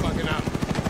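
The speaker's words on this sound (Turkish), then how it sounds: "Helikopter." A helicopter in Call of Duty Modern Warfare thumps with steady rotor pulses at close range, loud and continuous for a brief moment.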